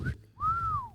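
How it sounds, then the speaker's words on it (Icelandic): A person whistles one short, clear note, pauses briefly, then holds a longer tone that rises slightly and falls away, close and alone over faint room noise. "Svona blístra?"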